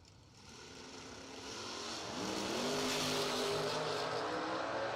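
Drag racing cars at a door slammer event, a Ford Mustang and a Mopar-powered Dodge Stealth, build from a distant rumble into a loud sustained engine roar, with pitch sweeping upward as they accelerate down the strip.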